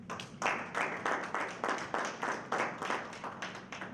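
Audience clapping at a breakfast seminar, a modest crowd whose claps swell in repeated rhythmic bursts and fade, heard alone without talk.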